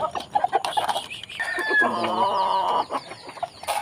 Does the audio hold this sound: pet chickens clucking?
yes